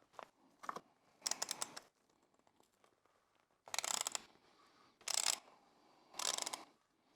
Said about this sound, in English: I'm going to use our oil filter tool and a ratchet.